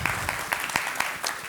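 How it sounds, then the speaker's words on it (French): An audience applauds after a keynote address, a short burst of scattered, distinct hand claps at a moderate distance with a faint voice underneath. "On va l'applaudir et le raccompagner."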